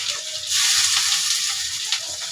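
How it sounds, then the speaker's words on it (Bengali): Ginger and garlic paste fries in hot oil in a pan after browned onions, producing a loud close crackling sizzle that swells and stays steady, with a faint stir near the end and no speech. "আদা বাটা রসুন বাটা ভালো করে ভেজে নিয়ে তারপরে দেবো গরম মশলা, গুঁড়া মশলা"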